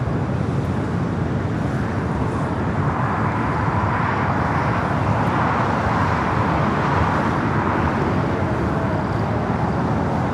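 A United Boeing 787 Dreamliner arrives at LAX on the south side with a steady, dense roar of jet engine and rushing air that holds at an even loudness throughout, no voices over it.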